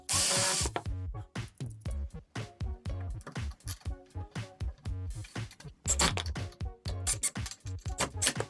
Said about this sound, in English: Alright, let me drill the first 2 holes.